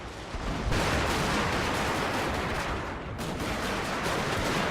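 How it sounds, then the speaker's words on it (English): Gatling guns open up in a Total War: Fall of the Samurai battle, a dense, loud, unbroken roar of rapid gunfire that rolls on steadily with no voices over it. "I'm just gonna aim the Gatling guns in their general direction and just hope that some of them dies."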